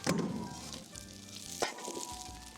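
Chicken drumsticks sizzle on a Blackstone griddle with a steady, close frying hiss, a soft clunk near the start and another partway through.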